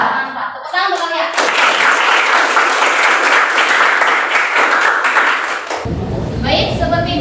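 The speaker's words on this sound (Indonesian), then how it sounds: "Tepuk tangan untuk kalian." A class of school students claps together loudly and energetically for several seconds, a dense burst of applause that follows shouted children's voices and gives way to a teacher speaking.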